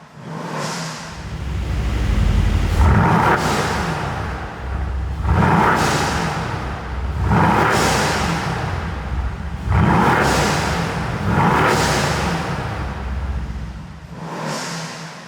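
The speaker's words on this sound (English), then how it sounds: "let's give it some revs in comfort and see what that sounds like" A Brabus 600 Mercedes C63S engine with sport exhaust revs repeatedly in comfort mode, roughly five surges that climb and fall back in a steady rhythm, loud and close with no talking.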